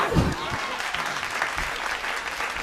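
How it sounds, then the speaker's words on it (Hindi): A Hindi comic poetry show audience claps steadily in a dense, continuous burst of applause. "ताली बजा।"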